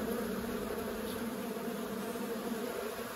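Dense, steady buzzing of many honeybees inside a queenless hive, a close, even drone that holds for the whole stretch without voices.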